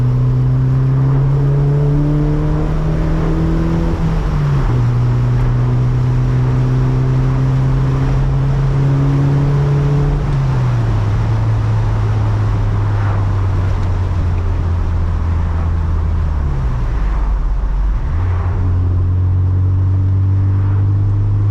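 A Toyota MR2 turbo engine pulls steadily under boost with a loud, continuous drone that climbs in pitch, drops at gear changes and climbs again, heard from inside the car with no talking.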